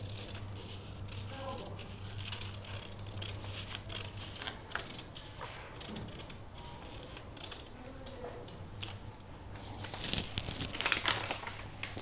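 Paper sleeve pattern front being cut, with soft irregular snips and crinkling of the sheet, quiet and close, with a brief louder rustle near the end.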